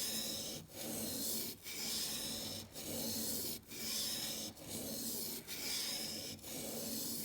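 Freehand sharpening of a woodworking blade on a stone, a steady rasping rub repeated in even strokes about once a second, with brief pauses between passes, close and fairly loud with no talk.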